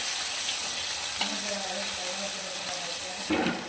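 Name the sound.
cumin, curry leaves and garlic frying in oil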